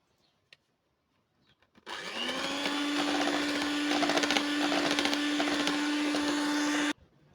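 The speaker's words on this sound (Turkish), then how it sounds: "Onu da çırpalım." An electric mixer whisks walnut cake batter with flour, switching on sharply and running as a loud, steady whir for about five seconds before cutting off.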